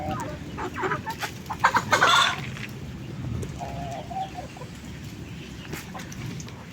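Backyard chickens clucking and cackling as they are fed corn, several birds close by with a busy burst of calls early on and softer scattered clucks afterward.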